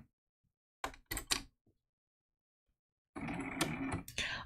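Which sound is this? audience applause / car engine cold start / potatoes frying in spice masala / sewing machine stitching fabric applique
sewing machine stitching fabric applique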